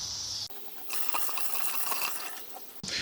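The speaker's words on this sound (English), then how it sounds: "So, pour the rest of this in here." Washer fluid is poured from a gallon jug into the windshield washer reservoir of an Infiniti M45/M35. A steady gurgling trickle starts after a brief pause and runs for about two seconds before stopping abruptly.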